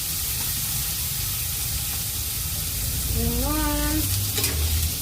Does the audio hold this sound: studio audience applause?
no